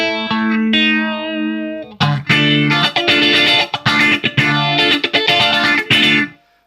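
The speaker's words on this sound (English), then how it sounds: "It's basically an MXR phase 90." Electric guitar through an MXR Phase 90-style phaser from a Line 6 HX Stomp, set for a classic tone: sustained chords, then a run of loud, choppy picked phrases with swirling modulation, played alone.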